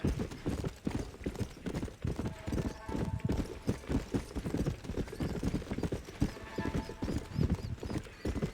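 Horse hooves clip-clop steadily in the Western video game Red Dead Redemption, a fast rhythmic trot heard up close throughout, with faint voices briefly in the background.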